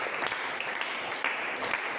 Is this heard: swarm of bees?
no